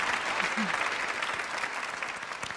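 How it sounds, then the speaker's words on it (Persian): An audience on a Persian television variety show breaks into steady applause, a dense patter of clapping that holds evenly through the brief moment. "تشویق بکنی یه بار دیگه استاد رضوانو"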